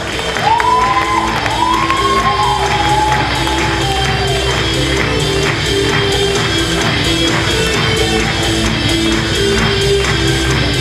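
A crowd at a university KVN comedy league semifinal cheers and shouts as teams come on stage, a loud, continuous roar with whoops and high voices over music and some faint clapping.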